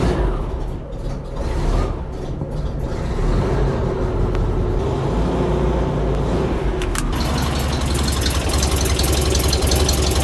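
A rebuilt Volkswagen bus engine starts and runs at a steady, loud, rough idle for about ten seconds, the rhythmic chug continuous and close with no talking.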